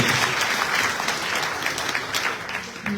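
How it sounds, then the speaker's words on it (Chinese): Attendees at an association's joint board meeting clap together in a burst of applause lasting about three seconds, dense and fairly close, fading slightly toward the end. "如果大家都没有意见的话，是不是请大家可以鼓掌通过"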